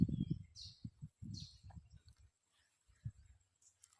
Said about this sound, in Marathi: ते चिव चिव करतय ते बारक पिल्लू.